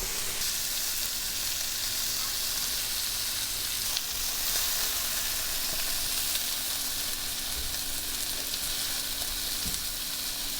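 Chicken pieces and shrimp fry in a hot pan with salt and pepper, giving an even, continuous sizzling hiss at moderate volume that stays steady throughout, with a faint scrape or two and no voices.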